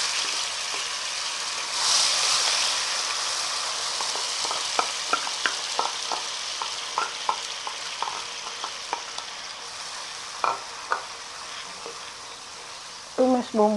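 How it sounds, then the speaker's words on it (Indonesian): Spice paste sautéing in oil left over from frying carp, a continuous close sizzle with a string of sharp spoon scrapes and taps against the pan, louder clacks near the end, and no talk. "Dan ini minyak bekas ngegorengnya, pakai tumis bumbu aja ya."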